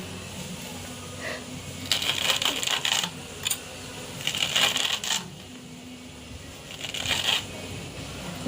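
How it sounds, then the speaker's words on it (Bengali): Bottle gourd leaves are finely chopped on a boti blade, heard as close bursts of rapid crisp slicing and rustling in three or four clusters separated by brief pauses, with no talking. "আমি বটি দিয়ে কাটছি"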